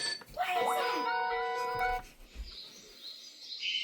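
Rainforest bird sounds from a 3-in-1 noise machine, alarm clock and nightlight: electronic chirping, tweeting calls with sustained tonal notes, fairly soft and close, with a brief voice over them.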